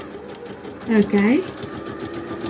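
A domestic sewing machine stitches a buttonhole with a rapid, steady mechanical whir and ticking, moderately close, while a person briefly speaks over it.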